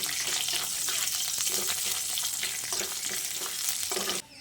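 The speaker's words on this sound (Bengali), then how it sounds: "এবার ফোড়নটাকে কয়েক সেকেন্ড ভেজে নিচ্ছি" Dried red chili and whole cumin seeds frying in hot oil give a steady, close sizzle with light crackles and a faint stirring scrape, running continuously before cutting off abruptly near the end.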